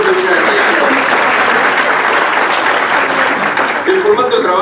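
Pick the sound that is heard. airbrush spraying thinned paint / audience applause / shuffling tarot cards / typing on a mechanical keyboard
audience applause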